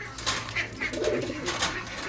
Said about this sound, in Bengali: আজকে স্পেশাল দুইটা কবুতর আছে